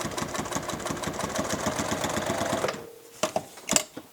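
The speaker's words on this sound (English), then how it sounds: "So we just start out by sewing it down." A sewing machine stitches leather for a knife slip, its needle hammering in a fast steady rhythm close by for over two seconds before stopping, followed by a few handling clicks.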